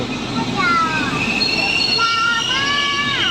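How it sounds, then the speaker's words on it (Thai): Train wheels squeal loudly at Udon Thani railway station in Thailand, high whining tones rising and sliding over steady rumbling rail noise throughout, with a faint voice in the background. "รถไฟครับผม"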